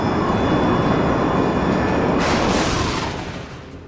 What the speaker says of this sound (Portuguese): na sua aproximação final, o avião começa a sair do rumo e ir direto para as montanhas